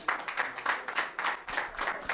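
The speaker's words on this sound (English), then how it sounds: "A round of applause for him." At a Ghanaian radio station sound clash event, a crowd gives a brief burst of applause, with rhythmic clapping pulses that rise and fall in fairly even beats.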